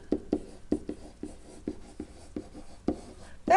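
Pen scratching on paper while working a math problem, a series of about ten short, sharp strokes at a brisk uneven rhythm, close and clear with no talk.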